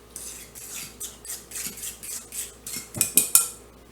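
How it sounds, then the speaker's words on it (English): A fork stirs a creamy smoked sausage, zucchini and macaroni casserole, tapping and scraping against the dish in a quick, soft rhythm that ends in a few louder clinks. "And stir that up. I'm just using my fork."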